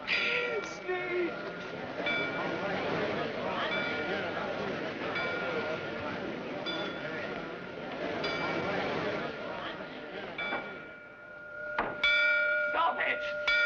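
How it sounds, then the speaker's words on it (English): Bells ring continuously in a radio drama, a dense clanging that goes on for over ten seconds with a few louder strikes near the end, while voices speak over them. "Sneed, stop those bells!"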